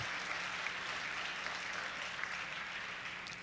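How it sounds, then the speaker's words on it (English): Steady applause from a crowd, a continuous wash of clapping that sounds somewhat distant and muffled, with no voices on top. "And a nice round of applause for Dave Goldstein."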